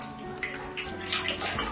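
Warmed water splashes over hands being washed in Jalkharr, a brief close gurgling, pouring rush with small spatters, steady and moderately loud.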